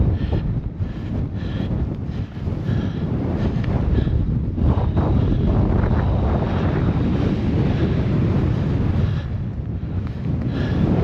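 Strong, steady wind on a Scottish mountain summit in Kintail roars and buffets the microphone without a break, with deep low rumbling gusts that swell and ease over the whole stretch.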